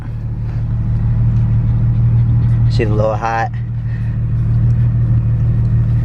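A loud Nissan 370Z idles with a deep, steady droning rumble close by, and a voice speaks briefly partway through over the constant engine hum.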